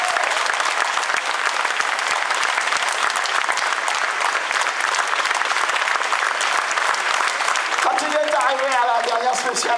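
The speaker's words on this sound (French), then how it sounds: "Et les applaudissements du public." A dense crowd applauds steadily throughout at a motor rally in Orthez, clapping loud and sustained, with a voice emerging over it near the end.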